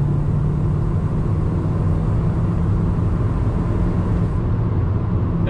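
Steady engine drone and road rumble from a 2020 Kia Soul GT-Line under throttle while driving, continuous and even in level without distinct shifts or voices.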